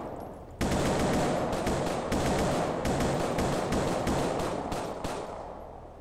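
Police gunfire in GTA IV with the LCPDFR mod: a loud, sustained volley of rapid shots begins abruptly and hammers on continuously for several seconds before easing slightly toward the end.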